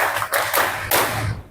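A group claps together in a counted clapping game in a classroom setting: a few loud, sharp collective claps in uneven bursts, close and crisp, with no talk.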